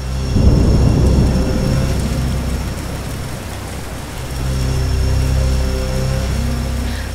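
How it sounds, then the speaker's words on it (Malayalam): Heavy rain pours with rolling thunder at night, a loud deep rumble swelling, easing and building again over a constant hiss of rainfall. "മഴയാണെങ്കിൽ കൂടി വരുന്നു"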